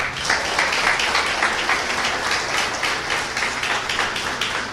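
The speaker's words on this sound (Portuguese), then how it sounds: "Aplauda o Senhor." A church congregation applauds together, a loud, dense and sustained patter of many hands filling the sanctuary with no voices on top.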